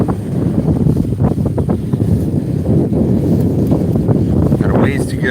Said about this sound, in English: Wind, as usual, is trying to slow us down.